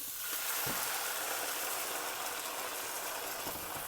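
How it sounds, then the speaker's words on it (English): Water is poured into a cooking pot in a steady, quiet splashing hiss that runs unbroken for a few seconds. "now I'm going to add a little bit of water to it."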